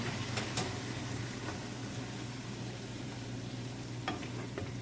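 Cabbage and meatballs stir-frying in a pan, a steady soft sizzle with a few faint scrapes of stirring, heard at low level throughout.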